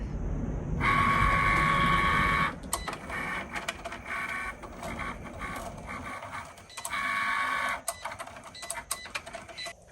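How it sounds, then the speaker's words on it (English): Cricut cutting machine working on vinyl, a close mechanical whirring with motor whines and rapid clicking carriage movements, loud bursts at the start and near the end with busier ticking between. "I'm going to hit my Cricut button, and that is going to pull the image right in and get it ready to cut."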